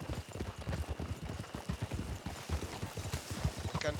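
Horse hooves trotting in the RedM video game, a steady rhythmic clip-clop of a single mount close by, with a continuous hum of background noise beneath.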